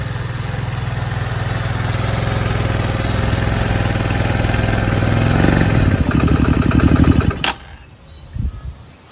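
A Chinese 150cc scooter engine idles steadily and slightly rough with a low, even thrum. It then revs up into a sputtering burst before cutting off abruptly, leaving brief quiet clatter.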